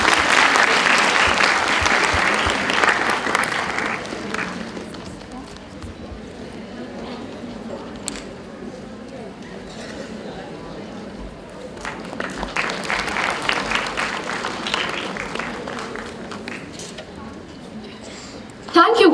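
An audience claps at a felicitation ceremony during a law competition event, a full crowd applause that swells at the start, fades to scattered clapping under a speaker's voice, then rises strongly again.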